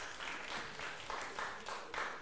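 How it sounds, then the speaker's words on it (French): Audience applause at a youth debate quarter-final in Guinea, a soft, distant wash of clapping rising and falling in waves over a couple of seconds. "Est-ce qu'on peut les applaudir également, s'il vous plaît?"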